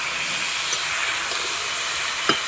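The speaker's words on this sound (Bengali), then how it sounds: "এই যেখানে আলু ভাজা বসিয়ে দিয়েছি, আলুটা ভেজে নেব" Potatoes fry in a pan with a constant loud hissing sizzle close by, broad and steady from start to finish, broken by a couple of faint clicks and no talk.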